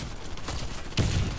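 A Claymore mine blows up in the Warface shooter video game. A single sudden, loud, low explosion lands about a second in, over steady background game noise.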